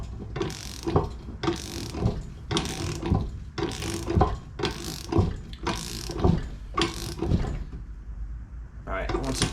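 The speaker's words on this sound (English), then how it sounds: "slide your wrench in, and then we'll just ratchet up on this" A ratchet wrench with an extension clicks in repeated bursts while a GM 12-bolt pinion nut is tightened, seven or eight close, loud clicking runs in steady rhythm, with a person talking over them.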